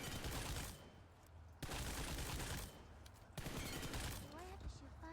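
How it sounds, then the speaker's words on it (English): Gunfire bursts from the mobile battle-royale game PUBG Mobile ring out in several loud sustained volleys separated by short pauses, with a voice briefly talking alongside. "But what happens when I shoot like 8 to 10 bullets?"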